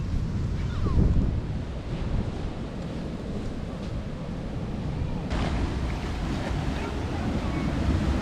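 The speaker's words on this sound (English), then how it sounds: "The tide's coming in." Ocean waves wash steadily onto a Costa Rica beach as the tide comes in, a continuous close roar of surf with gusty wind noise on the microphone.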